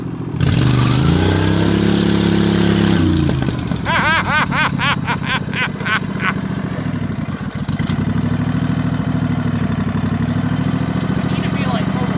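A janky lawn tractor engine, skidding logs through dirt, roars at a loud steady rev, drops briefly, then rises and wavers through repeated revving surges, with people talking nearby.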